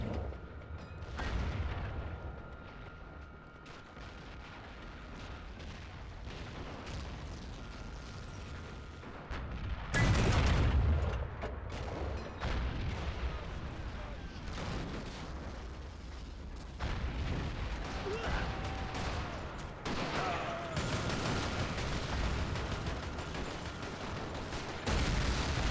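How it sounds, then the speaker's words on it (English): Artillery guns fire during a World War II video game battle at Gellért Hill with a realism mod, heavy booms rolling through a constant noisy battlefield din, with one big blast standing out midway. "I think we can hear our guns back here."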